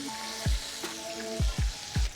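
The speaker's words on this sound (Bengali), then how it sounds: "এখন আমি বাকি মাছগুলো ভেজে নিচ্ছি।" Remaining tilapia frying in oil, a soft steady sizzle close by, punctuated by four low thumps spaced irregularly across the short stretch.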